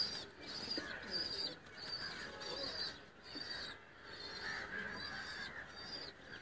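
Faint, rhythmic cooing comes from pigeons at a fancier's loft in Kot Ishaq, Hafizabad district, several soft calls repeating over a low, hissy background.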